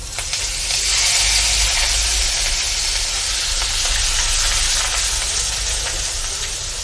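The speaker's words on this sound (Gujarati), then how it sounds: "જે લસણ મરચાં અને આદુની પેસ્ટ કરેલી છે તે નાખી દેશું." Garlic, green chili and ginger paste hits hot oil in a pan over low gas, giving a loud, steady, hissing sizzle that carries on unbroken for several seconds.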